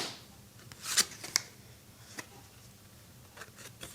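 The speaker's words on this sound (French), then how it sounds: "On me dit de tirer une dernière carte pour tout le monde, pour conclure un petit peu ce tirage" Oracle cards are shuffled and drawn by hand, with soft close riffling, a couple of sharper snaps near the start and scattered light card slides and taps.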